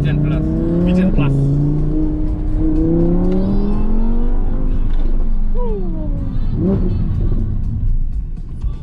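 V10 Plus performance car accelerating hard, its engine pitch climbing through rising gear sweeps, loud and close from inside the cabin, with people talking over it.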